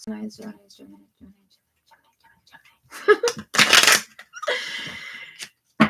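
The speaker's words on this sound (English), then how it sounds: "we're going to shuffle these up and do a little quick cut" A tarot deck for a Gemini reading is shuffled in several brisk riffling bursts, with soft card handling between them, after a few quiet spoken words.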